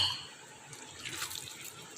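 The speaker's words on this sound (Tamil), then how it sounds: "கொஞ்சமாக தண்ணி சேர்த்துக்கலாம் ரொம்ப கட்டியாக இருக்குது" A little water is poured into thick homemade curd for curd rice, a short close trickle and splash that swells midway and runs for about two seconds with no talk.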